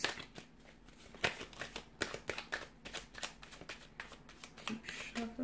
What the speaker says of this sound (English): Keep shuffling.